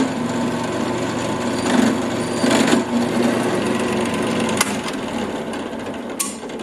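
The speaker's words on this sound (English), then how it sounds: "I'll go ahead and put in a chamfer tool and chamfer the holes." A chamfer tool in a drill press cutting the edges of holes in metal parts clamped in a vise: a loud, steady machine whir with grinding, chattering cutting noise and a couple of sharp metallic ticks.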